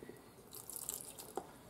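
Water splashes from a tap into a bowl of cake batter for a first-time birthday bake, with a soft, close trickle and a few brief drips and spatters.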